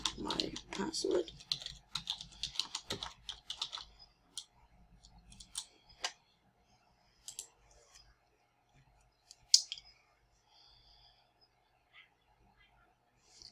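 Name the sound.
typing on a computer keyboard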